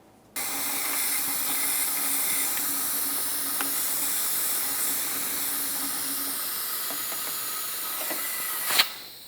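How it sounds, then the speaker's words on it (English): Fluid extractor drawing brake fluid out of the master cylinder on a 2004–2008 Ford F-150 5.4L V8, a steady close hiss lasting several seconds, ending in a short gurgling burst, with no speech. "Let's remove as much of the brake fluid as possible. For this, use a fluid extractor."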